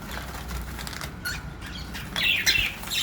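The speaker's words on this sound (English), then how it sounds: "guys, this is my favorite parrot" A pet parrot flaps its wings in a noisy burst close by, followed by a few shrill squawks and chirps near the end.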